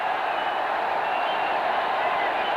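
A cricket stadium crowd in Delhi at a 1994 India versus New Zealand match gives a sustained roar of cheering and applause, steady and broad, with no clear individual voices.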